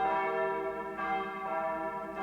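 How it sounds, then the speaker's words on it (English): Church bells in the video game Narcissu ring with a rich, sustained resonance, fresh strikes rolling in about every half second, moderately distant and with no talking. "rolling sound of bells"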